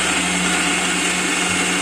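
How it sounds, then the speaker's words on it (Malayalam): A mixer grinder runs continuously, grinding roasted coconut with a little water added; the steady, loud motor whir and churning fill the short stretch with no voices. "വറുത്തത് നേരെ മിക്സിലിട്ട് പിടിച്ചുകൊണ്ടിരിക്കുകയാണ്, അരച്ചുകൊണ്ടിരിക്കുകയാണ്."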